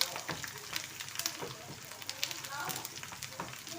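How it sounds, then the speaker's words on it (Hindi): Nigella seeds tempering in hot oil for a desi paya dish crackle and sizzle continuously with a dense, spattering hiss that rises and falls in small pops, fairly close. "ये इस हिस्से में डालेंगे ताकि तेल के बीच में ये कड़क जाए हमारी कलौंजी भी"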